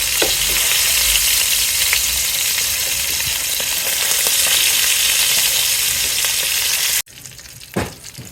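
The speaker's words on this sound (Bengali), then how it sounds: "মাছটা আপনারা দেখেই বুঝতে পারছেন যে একদম পারফেক্টভাবে মাছটা ভাজা করা হয়ে গেছে" Fish fries in a pan of hot oil with a loud, dense, continuous sizzle and crackle close by, which cuts off abruptly near the end, leaving a quiet room with a single soft clink.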